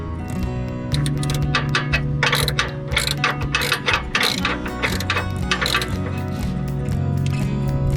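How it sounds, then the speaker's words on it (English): An 18mm socket on a ratchet removes bumper frame bolts on a 2018 Jeep, making steady, rapid clicking that runs nearly continuously, close and loud, in bursts of repeated pawl ticks. "Remove the 2 bolts along the outside edge of the frame on the bumper."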